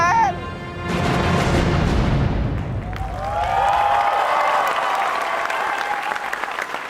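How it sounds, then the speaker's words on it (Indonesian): A theatre audience at an Indonesian stand-up comedy grand final breaks into loud, sustained applause with cheering, the clapping swelling quickly and holding as a dense roar. "sekali lagi tepuk tangan untuk stand up comedy Indonesia"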